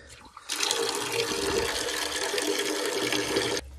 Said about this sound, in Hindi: तो क्या करता हूँ मैं अभी इसमें जल्दी से पानी भर लेता हूँ